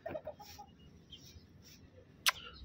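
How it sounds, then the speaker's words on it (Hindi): A hen clucks in a few short, quick bursts near the start, then falls quiet apart from faint chirps, with one sharp snap-like click near the end in a quiet yard. "वो मुर्गी लड़ने को तैयार है उसके साथ"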